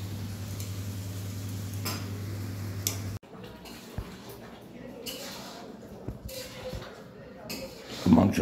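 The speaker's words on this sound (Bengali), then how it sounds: "মাংসটা কষা চলছে" Meat being sautéed and stirred in a pan over browned onions while a curry is cooked, giving scattered scraping and clinking of a utensil against the pan under a low sizzle, with people talking nearby.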